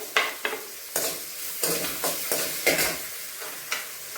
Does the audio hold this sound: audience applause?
no